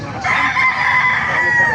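A rooster crows once at a poultry market in Baliuag, a loud, strained call held for over a second close by, with faint crowd murmur beneath.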